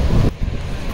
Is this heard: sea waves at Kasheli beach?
yes